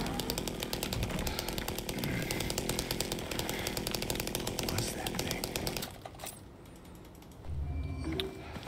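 A chainsaw roars in the Silent Hill 2 Remake video game, a loud, continuous rattling motor that cuts off near the end, with someone talking over it.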